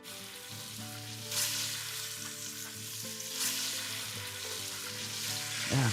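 Chicken thighs browning in oil in a pan, seasoned with salt, for a chicken ragù: a steady close sizzle and hiss with no talk, swelling briefly a couple of times.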